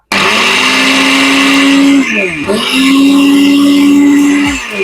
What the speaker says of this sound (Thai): เดี๋ยวให้ลองฟังเสียงเครื่องปั่นน้ำผลไม้เครื่องนี้ก่อนเลยนะครับ